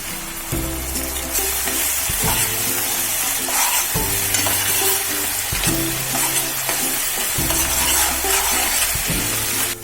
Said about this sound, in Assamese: আদা নহৰু কেঁচা গোন্ধ যোৱালৈকে মই ভাজি লৈছোঁ।